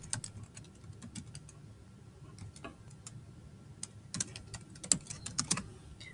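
Fingers type on a computer keyboard in irregular bursts of quiet, close key clicks, with a denser flurry of taps toward the end and no talking.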